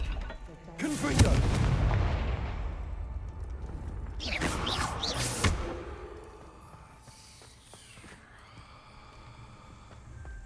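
Confringo blasting spell from the game Hogwarts Legacy, a loud roaring burst followed by a second booming blast a few seconds later, then a fading mechanical rumble.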